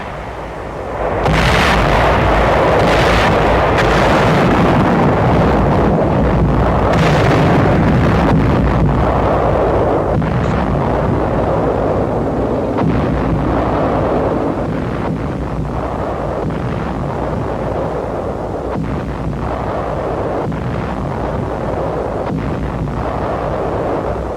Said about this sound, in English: troops of the 14th Corps bring up artillery to attack the Clark Field area, which is subjected to heavy shelling